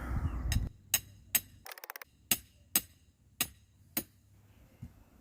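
Short pieces of cut rebar are hammered into garden soil for insect netting row covers, giving about eight sharp metallic strikes at irregular intervals plus a quick rapid burst of ringing taps, close and clear.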